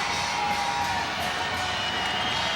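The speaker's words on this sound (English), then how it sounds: "the Wolverine fans finally have something to cheer about" A basketball crowd of Wolverine fans cheers and shouts continuously in an arena, a dense, loud roar with whoops that holds steady throughout.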